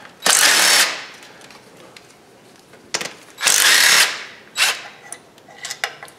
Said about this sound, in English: we're going to loosen up all these bolts and nuts